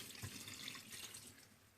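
Dyed water pours from a container over fabric during dip dyeing, a faint, steady splashing trickle throughout.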